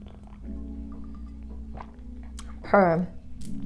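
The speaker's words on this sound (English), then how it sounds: "my gulps be so loud" A loud, close gulp while drinking tea, with a bubbly swallowing sound standing out over a steady low hum.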